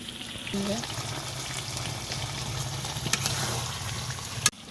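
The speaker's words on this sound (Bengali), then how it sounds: "মাংসটা কষায় হয়ে গেল" Chicken pieces for biryani fry in a pan with steady, close sizzling and crackling throughout, with a sharp clink of a utensil near the end.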